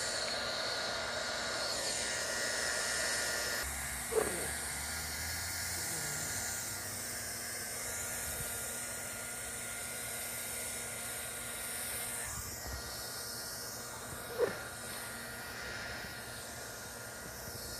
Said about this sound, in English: now I'm going to weld it right at my angle change again